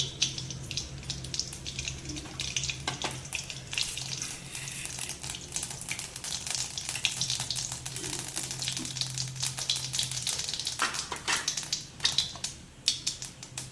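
Mustard seeds splutter in hot oil for a home-cooked sambar and poriyal, giving a steady, close crackling hiss with scattered sharp pops and no talking.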